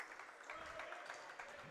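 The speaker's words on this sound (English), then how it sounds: "Big round of applause from all the staff" Applause from staff and team at a college men's basketball game between the Southwestern Pirates and Schreiner Mountaineers, a steady faint wash of clapping from a gym crowd, distant and continuous, with a commentator's voice faintly over it.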